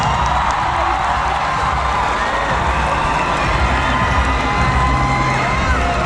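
A pageant crowd at Miss Earth 2018 cheers, whoops and applauds loudly for the Philippines contestant, a dense continuous roar of voices and clapping.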